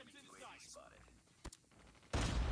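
Gunfire in a Call of Duty match: a single sharp shot mid-way, then a loud burst of rapid fire at the end, following faint game sounds and brief voice fragments.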